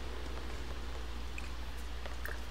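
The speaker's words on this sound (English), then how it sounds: "It's raining on my hat." Steady soft rain hiss in The Sims 4, a constant even wash of falling drops with a few faint higher ticks, heard alone without speech.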